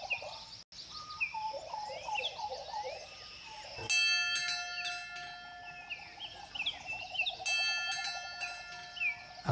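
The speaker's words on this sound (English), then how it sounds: "I like the bell. Peaceful." A bell rings out twice with a sharp struck attack and long shimmering decay at a monastery, over a steady chorus of birdsong and fowl calls in the background.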